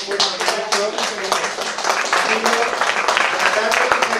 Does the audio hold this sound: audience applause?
yes